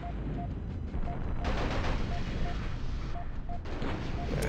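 Enemy weapon fire in the PC game MechCommander: Desperate Measures, a steady crackle of gunfire with heavier bursts joining partway through, under a repeating electronic beep and a low background rumble.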